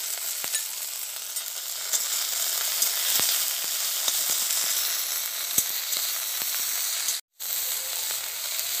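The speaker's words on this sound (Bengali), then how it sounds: "কেটে রাখা ব্রাহ্মী শাকগুলো ভালো করে ধুয়ে রেখেছিলাম তেলের মধ্যে তুলে দেব।" Chopped brahmi greens frying in hot oil in a pan, a steady close sizzle with scattered crackles and pops throughout, briefly cut off near the end, no talking.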